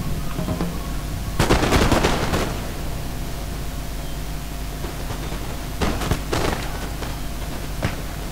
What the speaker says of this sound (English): Some firing.